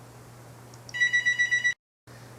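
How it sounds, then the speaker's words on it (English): A telephone rings indoors with a rapid trilling bell burst lasting under a second, clear and fairly close, then cuts off abruptly over a low steady hum. "And the phone's ringing."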